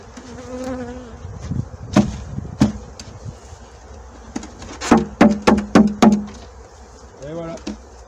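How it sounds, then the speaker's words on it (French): Honeybees drone in a low steady hum as they are shaken from a nucleus box into a hive, with sharp knocks of the wooden box struck several times in a quick cluster near the end. "il ne reste plus qu'à mettre toutes les abeilles qui sont dans la ruchette, dans la ruche"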